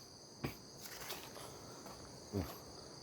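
Crickets chirp outdoors after rain in flooded countryside, a faint, steady high trill with two soft thuds like nearby footsteps.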